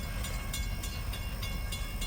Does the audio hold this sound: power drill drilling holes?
no